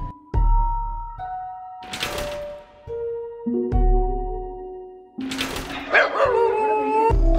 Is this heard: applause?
no